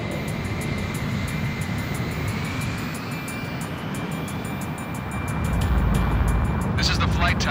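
An F-14A jet in the game Ace Combat Infinity takes off, a steady loud engine roar with a thin high whine that swells toward the end.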